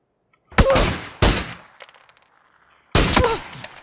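Gunfire in the battle royale game PUBG, hitting the player with a headshot: three loud, close bursts of shots with gaps of silence between them, with a faint clatter after the second.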